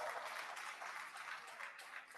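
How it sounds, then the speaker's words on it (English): Applause from a community meeting audience in Plaistow: a fairly quiet, continuous patter of many people clapping together, with no speech over it. "big round of applause, everybody"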